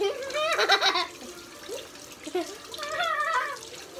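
Tap water runs in bursts at a sink while hands rinse honey off, the splashing rising and falling with quieter gaps, and a person vocalises and laughs softly over it.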